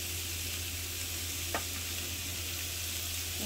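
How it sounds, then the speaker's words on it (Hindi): Chicken shashlik mixture with spices stirred in a pan, a steady hiss of sizzling oil running throughout with one brief scrape of the spoon near the middle. "इसके अंदर बस मैं जल्दी जल्दी चलाऊंगी इसको"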